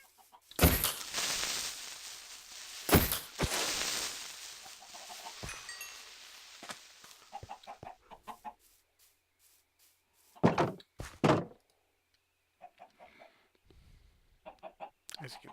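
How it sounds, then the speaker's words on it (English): Farm chickens cluck in a video game, coming in intermittent bursts with quiet gaps between them, alongside a few sharp knocks like a door. "I was working on my chickens there."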